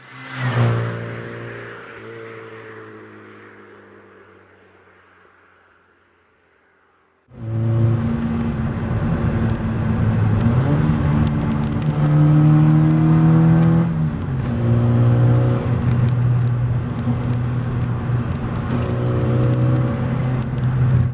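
A classic Mini Cooper's engine rings out, first decaying and fading to near silence, then surging back loud and close as it revs hard through bends, pitch rising and falling with gear changes.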